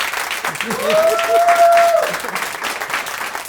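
Studio audience on a talk show breaking into applause, a dense patter of clapping that builds to a peak midway and then tapers off, with a voice speaking over it.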